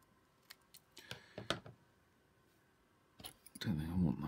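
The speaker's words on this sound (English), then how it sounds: "I'm going to get myself a piece of electrical tape. Cut it down to size a bit." Scissors snipping a strip of electrical tape, a few quiet close crisp cuts and clicks, followed by a person speaking.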